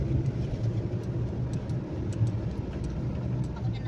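A roomy passenger car is heard from inside while driving, with a steady low engine and road rumble that stays constant throughout and carries no talk.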